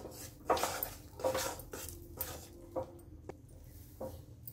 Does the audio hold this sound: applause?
no